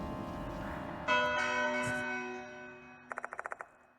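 Church-style bells ring in the horror game Death Mark, a sustained toll ringing out over a low ambient drone, followed near the end by a quick run of about seven bright, rhythmic chimes.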